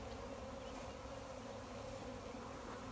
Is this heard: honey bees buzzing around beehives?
yes